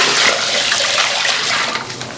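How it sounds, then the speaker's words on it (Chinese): Boiling water pours onto sea snails in a steady, loud, continuous splashing rush with no pauses. "加入滚水"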